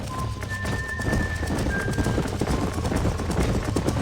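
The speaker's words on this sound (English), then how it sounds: "These are fine horses." Horse hooves clip-clop steadily at a ranch in Red Dead Redemption, with a brief whinny tone and steady ambient noise; the rhythm stays continuous and moderately close throughout.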